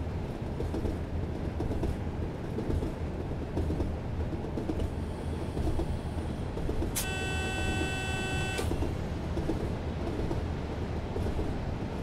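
A heavy British Rail Class 37 diesel locomotive hauling a train on the Ripple Lane to Southampton run in 1988, with a steady, loud rolling rumble of wheels on rails and a brief bright tonal blast partway through.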